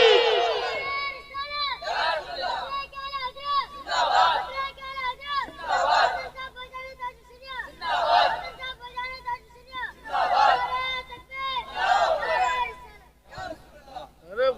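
At a religious gathering, a large crowd chants Allahu Akbar in response to the takbeer call, roughly seven loud, reverberant chorused bursts about every two seconds, amplified and echoing with brief gaps between.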